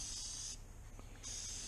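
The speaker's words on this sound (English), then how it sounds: "this is like contact cement that you're spraying" An aerosol can of contact cement sprays onto a knife strop in two steady hissing bursts, a short pause between them, close and fairly loud.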